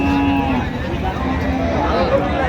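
Cattle at a crowded Raniganj livestock market, with a cow lowing among a dense, steady crowd murmur, several voices talking nearby.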